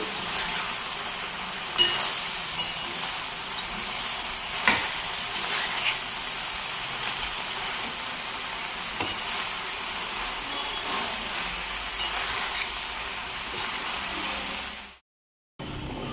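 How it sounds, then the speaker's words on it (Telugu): Ginger garlic paste sizzles steadily in a pan for a brinjal and green peas curry, with occasional clinks of a spoon stirring it, continuous and close, then stopping abruptly near the end. "బాగా అల్లం వెల్లుల్లి పేస్ట్ అంతా దీనికి పట్టే వరకు కలుపుకోవాలి."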